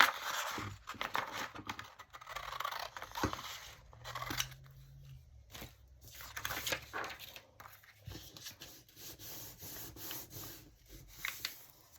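Scissors snip through a paper craft tag, closely miked, in a run of crisp cuts and rubbing sounds with short pauses between, alone without talk.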